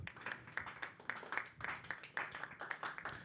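Workshop audience clapping at an entrepreneurial training event, a modest round of scattered hand claps with uneven rhythm, fairly faint and distant.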